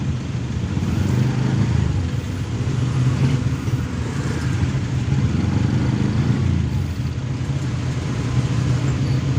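Steady road traffic at a busy intersection with a roundabout, a continuous low rumble of cars and motorcycle engines passing nearby, loud and unbroken throughout.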